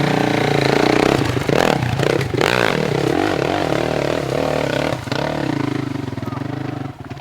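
A motorcycle ride, loud throughout, with engine roar and revving, rattling and scraping clatter, and brief dips in level.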